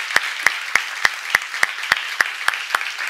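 Congregation at a church service claps together in a steady, even rhythm, about three crisp claps per second, with quiet gaps between each beat.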